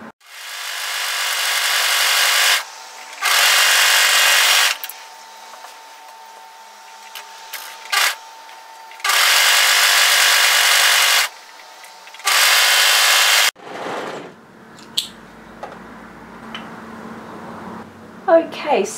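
An overlocker stitching a woven fabric edge in several bursts of loud, high-pitched whirring, separated by pauses, with some handling noise toward the end.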